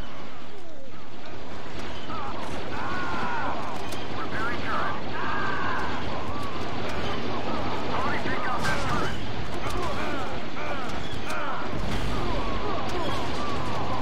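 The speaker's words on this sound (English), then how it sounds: "Oh, it's a shotgun" Shotgun blasts ring out in a Star Wars Battlefront 2 battle on Naboo, loud sharp bursts scattered through dense game noise of explosions and distant gunfire, with someone talking over it.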